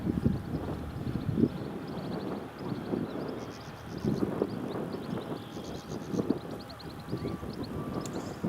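A Sim Express airliner taxiing at Newcastle Airport, a steady distant jet engine rumble with wind noise and faint birdsong, no speech.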